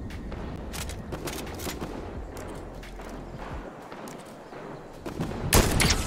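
Gunfire in the Fortnite video game crackles as a string of sharp shots and short bursts over a busy, rumbling background, with a louder cluster of shots near the end and no talking.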